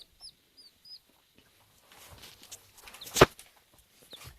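A young rooster giving a few faint, high peeping clucks close by, followed by soft scuffling and footsteps and one sharp knock.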